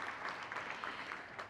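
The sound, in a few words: audience applause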